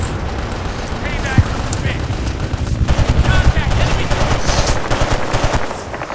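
Gunfire in the video game Battlefield Vietnam during an online Rush match, with rapid automatic bursts and scattered explosions, loud and continuous, under players talking.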